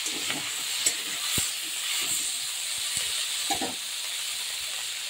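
Green pumpkin shukto with neem flowers simmers in a pot, giving a soft constant hiss of steam and frying with occasional light spoon scrapes and knocks.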